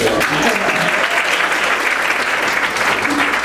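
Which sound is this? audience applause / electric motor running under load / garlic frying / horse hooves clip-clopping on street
audience applause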